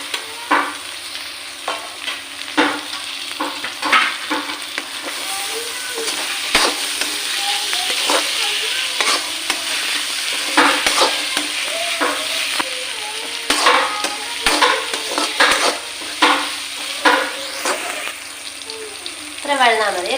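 Chopped tomato sautéing in a hot pan for a Kerala-style chicken curry, a continuous sizzle broken by repeated stirring scrapes of a spoon, close and fairly loud throughout.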